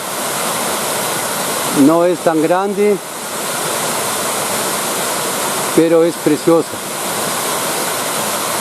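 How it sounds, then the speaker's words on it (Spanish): A small waterfall pours steadily with a loud, constant rushing hiss, while someone speaks briefly over it twice. "Ahora quiero que se deleiten con esta bonita cascada."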